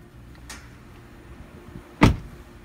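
A Ford Flex car door shuts with one sharp, solid thud near the end, after a faint softer click earlier in a quiet setting.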